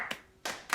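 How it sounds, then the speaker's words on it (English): Clapping comes in two short bursts with a quiet gap between them, close and moderately loud, with no talking. "Give him a round of applause"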